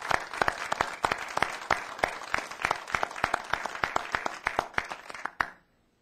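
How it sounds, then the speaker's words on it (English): A small crowd at a naval squadron plaque dedication claps in distinct, fairly sparse hand claps that stay steady for about five seconds and then stop abruptly, leaving near silence. "please join me in a round of applause to him"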